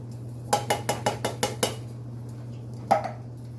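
A rapid series of about seven metallic clanks as drained canned vegetables are tipped from a can into a soup pot, then a pause and one more knock over a steady hum.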